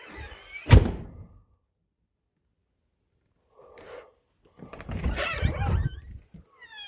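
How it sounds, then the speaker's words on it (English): A storm door that won't stay shut is pushed closed, giving a sharp thud near the start, then later rattles and bangs again with more clattering and knocking, close to the mic. "Close the door."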